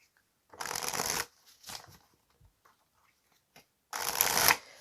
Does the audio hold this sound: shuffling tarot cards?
yes